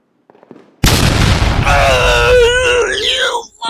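A Fourth of July fireworks explosion hits suddenly with a loud, close boom, followed by a strained, wailing vocal groan over the rumbling decay.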